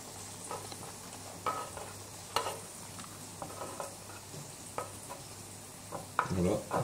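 An onion mixture is stirred in a pan, with a soft background sizzle broken by repeated scraping strokes of the utensil at an uneven rhythm, close and fairly quiet, with a louder scrape at the end.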